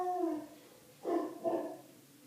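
A dog lets out a whiny, tonal vocalization, then two short yelping barks about a third of a second apart, close and moderately loud, with no talk over it.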